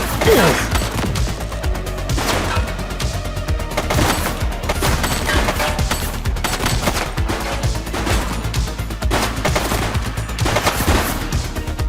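Sustained rapid gunfire fills a shootout in the police video game The Precinct, with dense overlapping bursts and shots continuing loudly throughout, and brief voices mixed in under the shooting.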